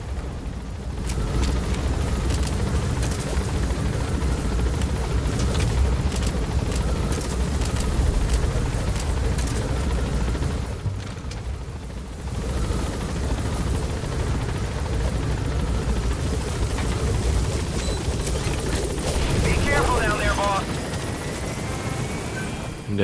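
A helicopter in the video game Metal Gear Solid V thunders steadily throughout, its rotor and engine drone loud and continuous with little change, briefly dipping midway before carrying on.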